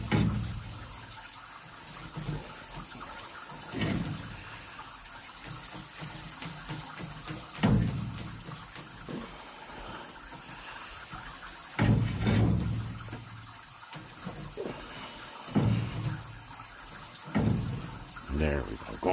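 Water gushes and rushes through a drain pipe shared with a neighbor, pushing solids along in a steady flow with repeated louder surges, while someone talks over it.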